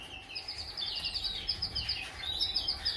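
Small bred cage birds, kept for breeding and pairing, chirp and tweet in quick, high bursts throughout, fairly close and steady against a low background hum.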